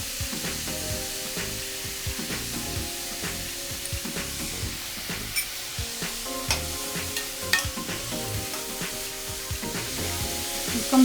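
Kadhi cooks and sizzles in a pan, giving a dense, continuous frying crackle with frequent small pops and stirring scrapes, close and steady for the whole stretch, with no talking.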